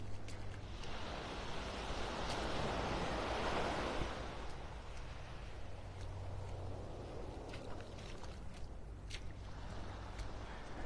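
Small ocean waves breaking on a beach in North Naples, Florida, a continuous soft wash of surf that swells and eases, with light wind noise on the microphone.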